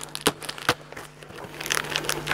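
Keys used in place of a knife to slit open a large, long cardboard box, giving close, quiet scraping and crinkling with a few sharp tearing snaps and rustling cardboard.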